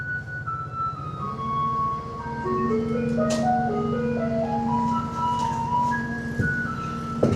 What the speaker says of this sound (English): People are lured by the sound of the garbage truck playing a song.